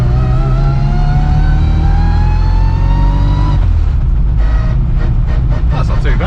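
A Classic Mini with a 1380cc engine and straight-cut gears whines loudly from inside the car, a rising gear howl that climbs with engine revs and then resets at a gear change.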